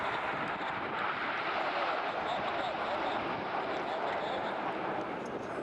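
RAF Eurofighter Typhoon jet at the Midlands Air Festival display, a steady loud roaring engine rush holding throughout, with an announcer's voice over it.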